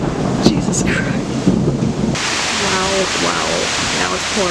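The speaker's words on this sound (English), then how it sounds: "Now it's pouring rain. And the thunder's really loud." Pouring rain roars steadily with deep thunder rumble underneath, while a voice speaks faintly over the storm.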